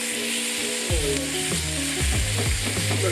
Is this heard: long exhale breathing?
no